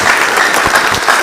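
Sustained audience applause at a young aspirants' political forum in a hotel hall, many hands clapping in a continuous dense wash with light crowd murmur beneath.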